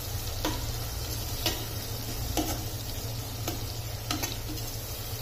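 Onion and tomato sautéing in a generous amount of oil for dal khichada, a steady close sizzle broken by about five sharp scrapes of a spoon stirring the pan.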